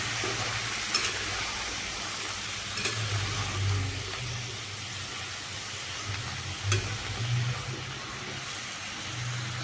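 Bottle gourd pieces and lentils are stirred together in a pan, with soft scraping strokes every few seconds over a continuous low sizzle and background hum.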